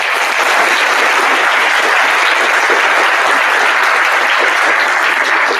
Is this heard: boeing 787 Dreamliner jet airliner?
no